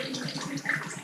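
Water trickles and drips steadily out of a detached Austin A30 heater box after its small pipe is removed, a close, continuous liquid patter with brief louder splashes.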